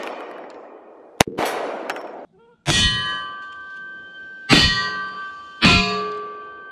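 Bullet rounds strike a forged aluminum wheel: a sharp crack followed by several loud, ringing metallic clangs with long decaying tones, spaced a second or two apart.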